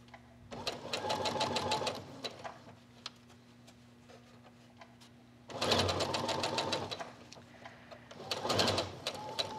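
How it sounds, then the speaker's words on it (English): Sewing machine stitching pairs of tucks into fabric, rapid steady needle clatter in three bursts with quiet pauses between. "So I'm sewing these tucks in pairs, one toward and one away, and just alternating as I stitch down this line."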